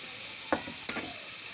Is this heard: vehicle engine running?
no